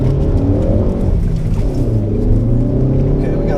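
A 2015 Ford Focus ST with the ST2 pack accelerates hard on a wet road in heavy rain, its engine growling loud and steady from inside the cabin with a constant low drone and rising harmonics, no talk over it.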